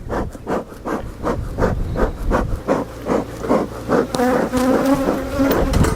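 Honeybees buzz around an opened hive during an inspection, a loud, close, wavering drone that pulses throughout and thickens into a denser, higher whine near the end, with no voices.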